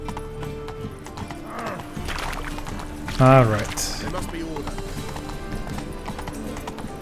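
Horse hooves clip-clop in the video game Witcher 3, with a steady rhythmic gait and a short whinny partway through, heard under a voice and in-game dialogue.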